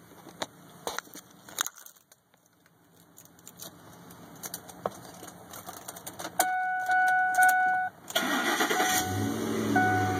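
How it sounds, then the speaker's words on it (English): A 2008 Ford F-150 pickup engine cranks and turns over, settling into a steady idle, preceded by jangling keys and clicks, with door-ajar electronic chimes ringing over the running motor. "Let's start it up for you."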